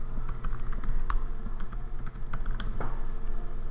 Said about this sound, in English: open the Spotlight search and type in Self-Service